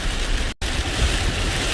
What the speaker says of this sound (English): I'm getting a much needed car wash.